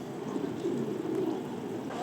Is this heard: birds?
yes